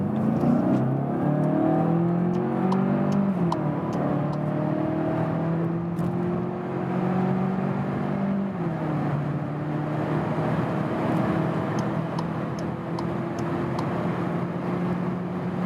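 A 2021 Volkswagen Passat GTE plug-in hybrid with a small-displacement engine accelerates hard, its engine note climbing through gears with a shift drop, heard from inside the cabin under a steady road roar.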